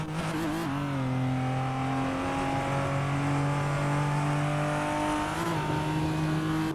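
A Nissan Skyline R34 engine in the Assetto Corsa racing game drones loud and steady, its revving tone climbing slowly, with a brief dip like a gear change near the end.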